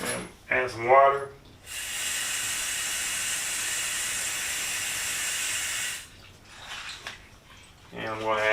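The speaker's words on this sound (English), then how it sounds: "Add some water." Water runs steadily into a container for cleaning brass cartridge cases, a constant hissing stream for several seconds between bits of talk.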